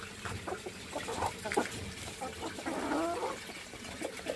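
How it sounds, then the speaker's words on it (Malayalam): Backyard chickens flock to fresh cabbage leaves in an organic terrace garden, clucking and calling steadily at close range with brief pecking rustles, no talking. "കോഴികളെല്ലാം ഈ ഒരു ക്യാബേജിൻ്റെ ഇല വളരെ താല്പര്യത്തോടു കൂടി കഴിക്കുന്നത് കാണാം."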